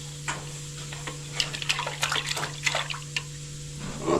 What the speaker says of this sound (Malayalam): മൊത്തം അടിച്ച് തെറിപ്പിക്കാണ്